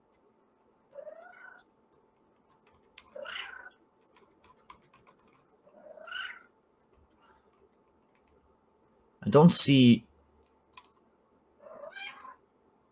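A cat meows repeatedly, five or six separate rising mews spaced a couple of seconds apart in a quiet room, with one louder burst of a man's speech in the middle.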